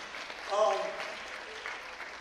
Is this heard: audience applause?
yes